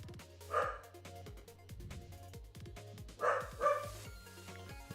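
A pet dog barks indoors while a lawn is mowed outside: one bark, then a pair of sharp barks a few seconds later, over a steady low mechanical hum.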